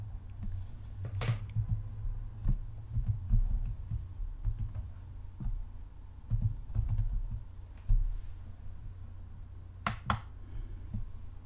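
A name is typed on a computer keyboard during an operating-system install, with faint, scattered key clicks, a few sharper taps and a steady low hum underneath.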